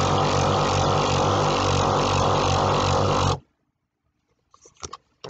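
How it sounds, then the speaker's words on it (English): An electric balloon inflator runs with a loud, steady motor whine and rush of air for about three seconds, then cuts off abruptly, followed by faint rubbery balloon squeaks and handling noises. "That's how I inflate with my inflator."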